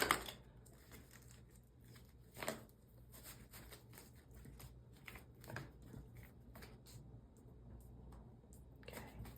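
Tarot cards riffled and shuffled close by, a few sharp flurries of papery flicks separated by quieter pauses, with no voices.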